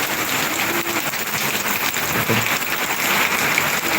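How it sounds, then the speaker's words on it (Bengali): Heavy cyclone rain pours down steadily around flooded, damaged houses, a dense continuous hiss of drops on surfaces with no talking. "আশেপাশে ঘর বৃষ্টি দেখুন কি অবস্থা"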